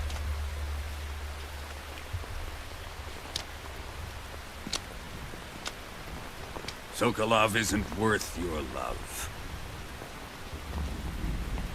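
Steady rain hisses under a low rumble of thunder in the video game Metal Gear Solid 3D, with a voice speaking briefly over the downpour.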